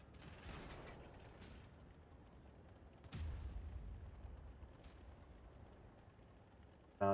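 Tank shells fire in a video game battle as two heavy booms a few seconds apart, each with a rumbling tail, over low background noise.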